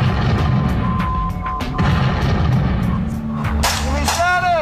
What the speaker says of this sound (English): Keep your head down, we got artillery coming in friendly.